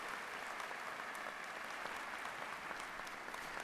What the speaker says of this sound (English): would you please applaud Mr. Stevens and our trustees for their service?